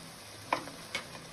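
Broad bean patties fry in hot oil with a quiet, steady sizzle, broken by two brief soft clicks close by.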